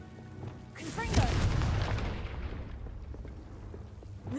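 A Confringo spell explodes in the Hogwarts Legacy video game with a loud, booming burst that swells and then slowly trails off into a rumbling, crackling decay.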